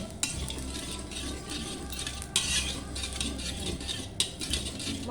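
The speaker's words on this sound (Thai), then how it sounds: "เขาใส่มังงาลงไปมันก็แตกก็ตับตับตับเลย" Sesame seeds roasting in a hot pot, a steady dry sizzle with scraping stir strokes and a few sharper clatters of a utensil against the metal, no talk.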